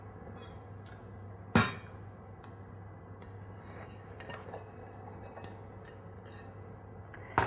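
Melted white chocolate is mixed into chocolate cake batter in a bowl: one sharp utensil knock, then scattered light clinks and scrapes against the bowl, close and fairly quiet, with no voices.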